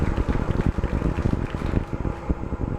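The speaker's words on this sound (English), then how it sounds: "That noise is a microphone that's on the vehicle." Crackling, rushing roar picked up by an onboard microphone on a Rocket Lab Electron rocket during flight, with a continuous churn of low buffeting pulses and hiss, loud and close.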